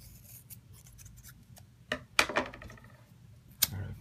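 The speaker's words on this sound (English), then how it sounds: "Cut this excess off." Scissors snip through excess paracord on a braided bracelet, giving a few crisp, close cuts with a quick double snip in the middle, set against a quiet background with no speech.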